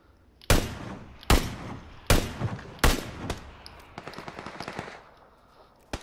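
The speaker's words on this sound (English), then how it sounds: "Hella shots in front of us." Gunfire in a shooter video game: four loud, sharp shots at even intervals, followed by a quicker, softer burst of rapid shots and a final crack at the end.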